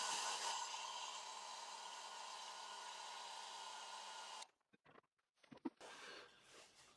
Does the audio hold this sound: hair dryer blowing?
yes